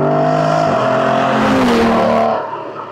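An Aston Martin Vanquish with a naturally aspirated V12 sends out a loud, smooth exhaust note, the engine holding a steady high rev before the pitch shifts and the sound eases off toward the end, with no voices.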